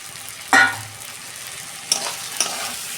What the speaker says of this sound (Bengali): আমি চিংড়ি মাছ দিয়ে দিচ্ছি।